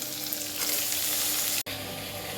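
An egg cooks in a hot pan for egg biryani, giving a steady, bright frying hiss that cuts out for an instant near the end before carrying on.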